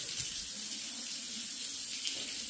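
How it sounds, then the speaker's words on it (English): Tap water runs steadily from a household faucet, a continuous close hiss and splash in a sink with no voices over it. "So faucets again, no issues here."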